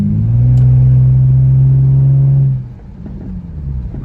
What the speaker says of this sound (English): And the car actually sounds pretty good.